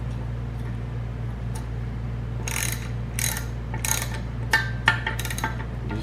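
Bolts on a homemade valve spring compressor are tightened with a ratchet, giving several short bursts of clicking pawl strokes over a steady low hum, close and moderately loud.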